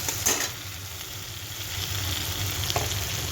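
Spice paste sautés in a pan for an egg curry, a steady low sizzle with faint stirring scrapes throughout and a couple of brief clinks near the start and end.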